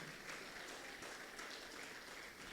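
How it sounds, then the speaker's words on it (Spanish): Congregation applauding during a midweek evangelical church service, a steady wash of many hands clapping at moderate level for a couple of seconds, with no talk over it. "denle un aplauso a Dios con alabanza"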